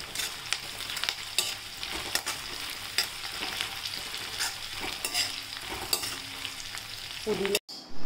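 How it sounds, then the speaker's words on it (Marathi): Peanuts and cashews fry in hot oil as they are stirred in a pan for mint rice, a steady sizzle with recurring scrapes and clinks of the spoon, ending in a brief knock. "शेंगदाणे हे टाकूया आणि काजू टाकूया आणि आता परत छान परतून घेऊया"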